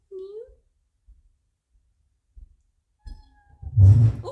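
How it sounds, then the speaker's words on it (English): A tiny foster kitten gives a thin, high mew up close, followed by soft faint noises and then a person talking. "I thought I heard a little kitten mew."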